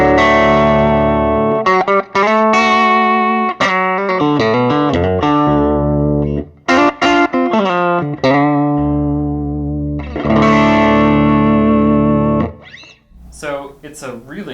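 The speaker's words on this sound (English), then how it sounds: "In the bridge position is this slightly microphonic, lower output tele-style pickup" A bright, slightly distorted electric guitar on a slightly microphonic, lower-output tele-style bridge pickup plays choppy phrases with short pauses and ringing chords, loud and up close.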